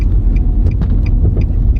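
A 2007 Nissan Sentra drives near an airport, a steady low engine and road rumble running throughout with a few brief higher clicks or squeaks on top, close and fairly loud, with no one speaking.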